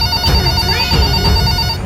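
A toy banana phone rings in a short, bright electronic jingle with a rising warble, close and loud against a busy background of music and play sounds.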